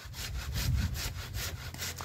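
A hand saw cuts through a thick branch of a tahli (Indian rosewood) tree being pruned in Punjab, with quick, even back-and-forth rasping strokes, close and loud, with no talking.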